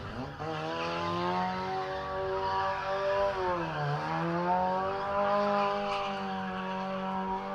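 A 4-cylinder hatchback engine revs hard at a motorsport event, a loud sustained buzzing drone that rises and falls in pitch, dipping once mid-clip before climbing again, close and continuous with faint tyre noise.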